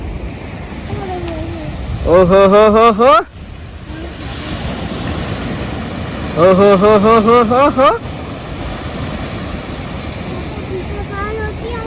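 A continuous broadband roar of sea surf at Porbandar fills the background while a voice calls out in two loud, sing-song bursts.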